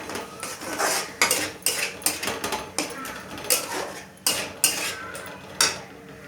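Spices with salt and turmeric being stirred in a pan over the stove, a utensil scraping and clinking against the metal in repeated irregular strokes, close and fairly loud, with no talking.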